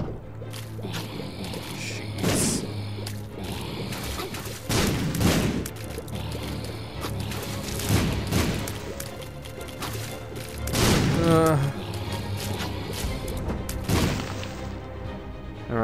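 Explosions and busy game effects from The Binding of Isaac: Wrath of the Lamb, with repeated punchy bomb blasts and crashes over a constant dense soundtrack, loud and continuous throughout.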